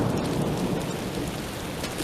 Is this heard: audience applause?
no